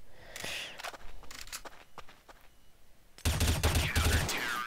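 M4 rifle fire in Counter-Strike: Source, scattered single shots and short bursts at first, then a loud rapid automatic burst near the end, sharp and close.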